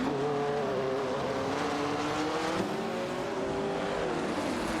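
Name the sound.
De Tomaso Pantera GTS 72 and Ferrari 365 GTB racing, racing video game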